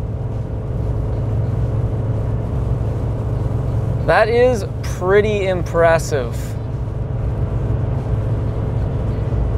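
Inside the cab of a Chevy 1500 with the 2.7-liter turbo four-cylinder (L3B) hauling a heavy trailer up a highway grade at about 3,200 RPM, a steady low engine drone and road rumble run throughout, with someone speaking briefly midway.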